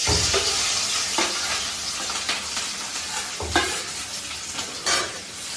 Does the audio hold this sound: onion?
yes